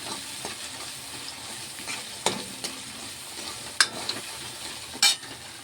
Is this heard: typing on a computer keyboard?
no